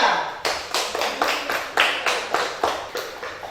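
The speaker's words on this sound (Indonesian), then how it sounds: "Tepuk tangan buat kelompok 3." A classroom group claps in unison for a team that answered a quiz question, about a dozen sharp, evenly spaced claps at a steady rhythm, close and loud, with no talking.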